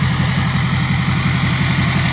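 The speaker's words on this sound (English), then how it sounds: "You wanna rev her up? Can you get a little coal off that one?" A diesel Chevy truck engine runs loudly and steadily up close, a low throbbing rumble with a fast regular pulse, sounding more like a held idle or light rev than a big surge.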